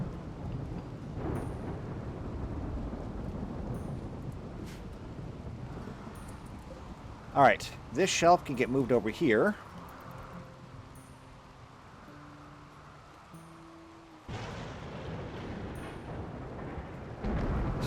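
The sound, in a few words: rainy thunderstorm in a video game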